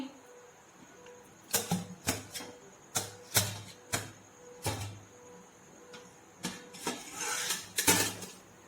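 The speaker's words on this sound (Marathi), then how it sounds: "मी गॅस बंद करते आणि झाकण उघडते" A metal pot lid lifted off a cooking pot of shengole on a home kitchen stove after the gas is switched off, heard as a series of sharp clanks and clatters in irregular rhythm, close and fairly loud.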